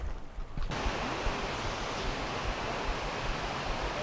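The Ouzoud waterfalls in Morocco roar in a constant, broadband rush of falling water. It starts abruptly after a quiet moment, then stays loud and unbroken, with no talking.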